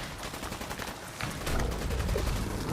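A big gun in Fallout 4 fires a rapid, heavy volley of shots, loud and close, building into a denser, booming burst partway through.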